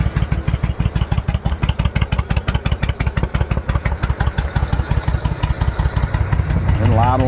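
A Suzuki Intruder 1500 motorcycle idles close by with a steady, loping beat of even pulses, the engine settling lower toward the end while someone talks over it.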